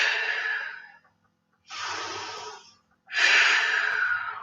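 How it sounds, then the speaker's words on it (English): Three deep, breathy exhalations through the mouth during a yoga chair pose flow, close and fairly loud, each lasting about a second with short silent gaps between, no talk. "3 deep breaths here."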